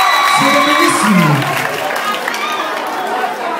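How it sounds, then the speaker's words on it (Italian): A theater audience at a live concert claps and cheers loudly, with whoops and shouts rising over dense applause near the front, fading slightly toward the end. "Oh, tutti insieme applausi."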